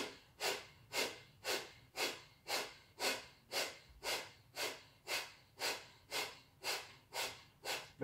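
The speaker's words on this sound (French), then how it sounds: "Expulsez le souffle, rythmez avec la respiration." Rapid, forceful exhalations through the nose during a yoga breathing exercise, about fifteen sharp puffs in a steady rhythm roughly every half second, close and clear with no talking.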